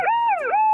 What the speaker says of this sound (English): Siren's broken.